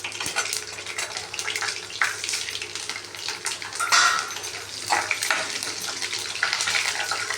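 Dried red chilies hitting hot tempering oil with mustard seeds and urad dal for mango pachadi, a steady close crackling sizzle that runs throughout at an even, busy level.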